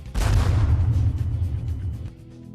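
A dramatized bomb blast strikes a Jaipur street, a single heavy boom up front that rolls into a long rumbling roar and gradually fades, with no voices over it.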